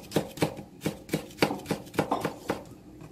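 A knife chops vegetables, likely red chili, on a cutting board for Korean zucchini namul. There are about ten crisp, evenly spaced cuts heard up close, with little talk.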